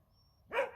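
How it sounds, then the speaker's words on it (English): A single sharp bark from an 11-year-old dog, close and fairly loud, following a moment of near quiet. "No! Stop barking. Be quiet."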